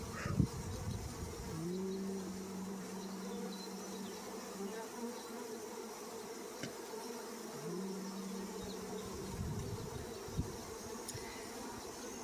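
A wild honeybee swarm being rehomed in Hawai'i hums steadily and close at hand. Individual bees drone past now and then, rising and falling above the continuous buzz.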